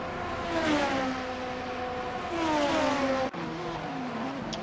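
Race car engines from a sim racing game on the full Virginia International Raceway course whine loudly as they rev up through the gears. There is a sharp gear change near the end, and no one talks.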